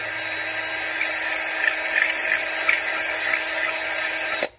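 A high-pitched drill whines steadily as it bores through a metal RV light fixture, with slight grinding fluctuations, then cuts off abruptly at the end.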